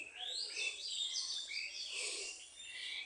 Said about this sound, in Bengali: গাছে গাছে ডাকে পাখি